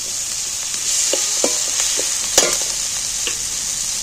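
Spice paste fries in oil with a steady hiss while a spoon stirs it, scraping the pan in a few short clinks and knocks through the steady sizzle during preparation of a fish roe dish.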